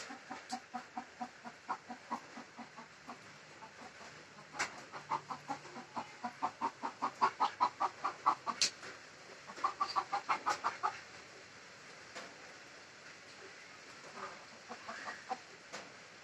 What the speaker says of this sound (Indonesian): itu ayam bangkoknya lagi masuk di dalam kandangnya